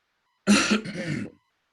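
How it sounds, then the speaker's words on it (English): A single rough, throaty smoker's cough, loud and close, lasting under a second, with no talking around it. "That's a smoker's cough right there."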